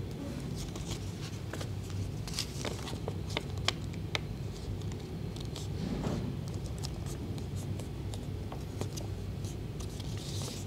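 Paper being folded by hand to form a sundial stand: steady soft creasing, rubbing and crinkling with scattered small taps and rustles, close and fairly quiet throughout.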